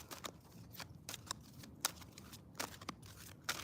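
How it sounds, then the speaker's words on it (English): A deck of yoga pose cards is shuffled by hand, giving a string of quick, uneven papery riffles and snaps spaced over a few seconds, close and fairly quiet with no talk. "Anyway, I'm shuffling my cards."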